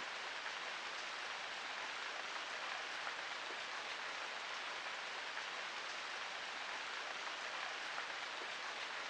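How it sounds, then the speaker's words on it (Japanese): Steady rain falling in the video game Sword Art Online: Hollow Fragment, an even, unbroken hiss of drops that stays faint and constant throughout, with no voices. "あとは雨が上がるのを待つだけかな。"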